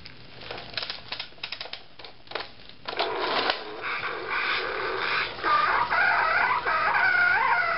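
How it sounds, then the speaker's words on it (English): A toy or exhibit rooster crow at a children's museum, a strained mechanical cock-a-doodle-doo that rises after a few seconds of scattered clatter and clicks, fairly close and carrying on for several seconds without any talk. "I think that was supposed to be the rooster."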